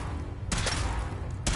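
Gunfire from the video game Fallout 4 cracks out in two loud bursts, one near the start and one near the end, over a steady low rumble of background game noise.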